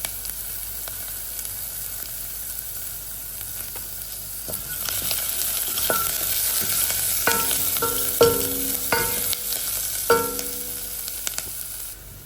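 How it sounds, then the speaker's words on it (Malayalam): Onion sautéing in a pan with crushed ginger and garlic, a steady close sizzle with several sharp scraping stirs in the second half, no talking. "ചതച്ച് വെച്ചിട്ടുള്ള ഇഞ്ചി വെളുത്തും കൂടി ചേർത്ത് അതിൻ്റെ പച്ചമണം പോകുന്നത് വരെ ഒന്ന് വഴറ്റിയെടുക്കാം"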